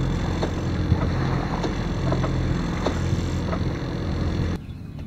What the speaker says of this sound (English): this time I will start the engine and motor in the last few miles